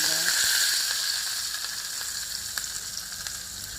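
Cumin, whole dried red chillies, two cloves and two black peppercorns sizzle in hot oil as a tempering for white beans, a close, steady frying hiss with faint crackles and no speech.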